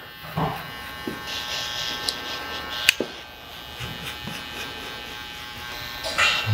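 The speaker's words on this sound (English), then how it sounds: "My shavers now. Again, just working very low up into where the trimmers ended." An electric shaver hums faintly and steadily during a skin fade haircut, worked low on the head up to where trimmers left off, with small clicks and handling noises over the buzz.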